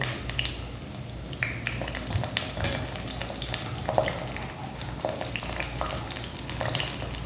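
Masala chickpeas fry in a pan with a steady, dense sizzle and crackle, punctuated by stirring scrapes and small pops throughout, close and continuous with no talking.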